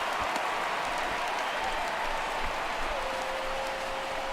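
A video game baseball crowd in MLB The Show 16 roars with steady cheering and applause after a fly ball, a dense continuous wash of noise at even volume.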